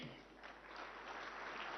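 A conference audience at Bharat Mandapam breaks into applause for the Prime Minister's speech, a dense, even clapping that carries on steadily throughout.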